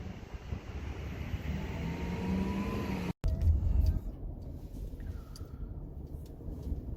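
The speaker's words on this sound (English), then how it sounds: "Driving our ways here." A car drives through Ozone Park, Queens, at night, giving a steady road and engine rumble. The sound cuts out briefly midway, and faint distant tones drift in afterward.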